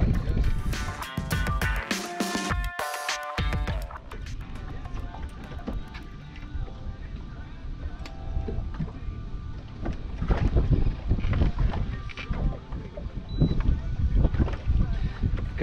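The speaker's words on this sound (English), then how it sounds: "And the wind has kicked up." Wind blowing across open water around a fishing boat, a steady rough rumble with gusts and occasional knocks and clatter at the start.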